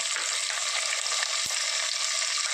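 Green chilies, ginger and garlic fry in hot oil with fenugreek for a fish curry, a dense steady sizzle with a single sharp knock of a utensil midway, close and alone.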